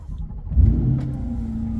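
A 2023 Chevrolet Corvette 2LT fires up with a short starter whir and a loud burst as the engine catches, then settles into a deep steady idle rumble close by.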